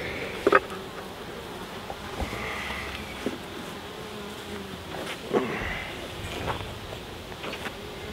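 Honey bees inside a hive being checked for new queens give a steady low buzz, with scattered knocks and handling clatter close to the microphone and faint wind noise.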